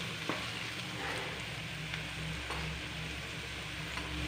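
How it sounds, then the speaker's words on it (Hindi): Potatoes fry lightly in a pan for samosa filling, giving a soft, steady sizzle with faint scattered ticks throughout. "आलू हम सबसे पहले हल्का सा भून लेंगे"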